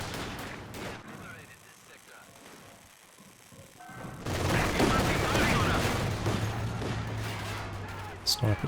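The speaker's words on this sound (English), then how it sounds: "Sniper picking away." Gunfire in the real-time strategy game Company of Heroes 2, including a sniper shooting, comes as scattered sharp cracks over a low rumble that swells into a louder, dense burst of battle noise halfway through.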